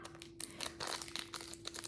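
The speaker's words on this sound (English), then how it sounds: "just make sure you seal the Ziploc" Crinkly plastic of a Ziploc bag being handled and pressed shut, a string of soft close rustles and crackles, quiet and steady with no talking.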